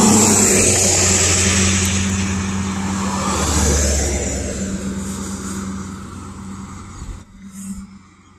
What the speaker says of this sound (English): Saw this traffic coming through.